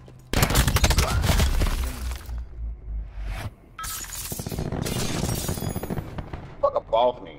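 Two sentry guns fire rapidly in Black Ops 4, loud bursts of close automatic gunfire with sharp impacts and breaking sounds. A player talks over the shooting between bursts.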